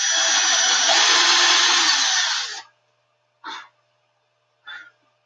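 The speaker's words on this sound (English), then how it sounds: "This drill is my most used tool that I have." A Craftsman power drill drives screws into wood strips, a loud steady whir for about two and a half seconds, then two short separate bursts after pauses of silence.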